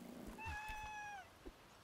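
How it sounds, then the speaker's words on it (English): A single drawn-out cat meow from a Celeste: Strawberry Jam game level, clear and close, rising then gently falling before fading, with faint game ambience beneath and no talking. "Cat."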